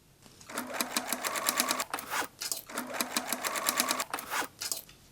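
Sewing machine stitching a strap onto an old T-shirt being turned into a blouse: two close, even bursts of rapid needle chatter, each about two seconds long, separated by a brief pause, with no voices.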